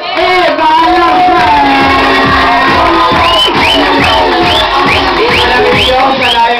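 A crowd at a stage event cheers and shouts loudly and continuously, with repeated rising whoops and bellowing voices close by and clapping mixed beneath.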